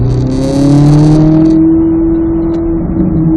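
Race car accelerating hard on a track, a loud close engine note rising steadily in pitch through the gears, then holding a sustained high drone as it pulls away.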